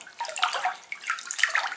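Water sloshing and splashing in a bathtub as someone moves in it, a continuous close wash of irregular swishes with no talking.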